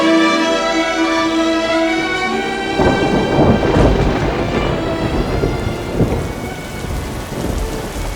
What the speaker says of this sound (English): Heavy rain is falling from a thundercloud on the slope of Masis.